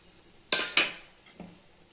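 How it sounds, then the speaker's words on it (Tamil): Two quick metallic scrapes of a spoon against a pot as wheat semolina is stirred into boiling water, then a softer third scrape after a pause, in a quiet kitchen. "இப்போ நம்ம அந்த ரவையை அப்படியே போட்டு கிளறிக்கலாம்."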